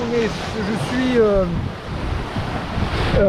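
Wind and surf around a Mini-Transat sailboat running under medium spinnaker in about 20 knots of wind, a steady rushing roar of wind noise and waves throughout, with faint tonal whines over it.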